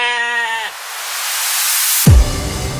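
A sheep at a solar farm gives a loud, wavering bleat up close, followed by a rushing hiss and a low thump.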